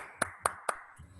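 Three crisp hand claps land in a steady even beat during a solo jazz dance class, close and clear, followed by a faint softer sound.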